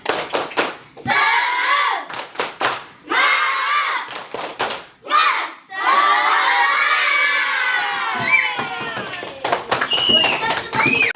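Schoolchildren in a classroom chanting the rhythmic 'tepuk semangat' clapping cheer, loud shouted unison phrases punctuated by sharp clap bursts and pauses, with brief excited shouting near the end.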